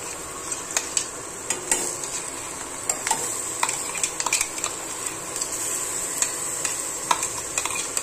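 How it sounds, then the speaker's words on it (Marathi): Onion chutney with peanuts roasts in a pan, with a soft sizzle underneath and repeated sharp scrapes and taps of a spoon stirring against the metal. "आणि आता ही चटणी त्याच्यामध्ये टाकून घ्यायची. चटणी चांगली भाजली ना तर मग चटणी पण चांगली होते."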